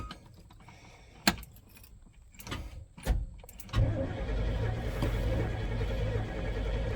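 A camper's engine is cranked: a few sharp clicks and keys rattling, short starter bursts, then the engine catches and settles into a steady low idle rumble.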